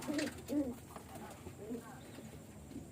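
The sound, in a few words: pet pigeons cooing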